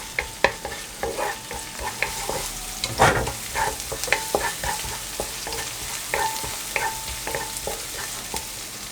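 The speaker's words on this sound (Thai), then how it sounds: "เราก็ผัดให้มันเหลือง" Chili and garlic are stir-fried in a pan that is not yet very hot, for spicy glass noodles with shrimp, with rapid repeated spatula scrapes and clatter over a soft sizzle, close and busy, one heavier scrape near the middle, and nobody talking.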